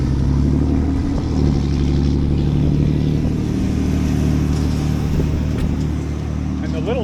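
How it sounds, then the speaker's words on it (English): A small truck engine drives noisily on a road trip toward Banff, a steady loud rumble and drone continuing throughout with no break. "And the little truck was noisier than the big truck."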